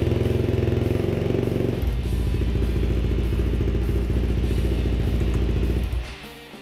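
A motorcycle fitted with a Rekluse automatic clutch idles loud and close with a lumpy, clattering engine note, then pulls away, its revving fading off toward the end.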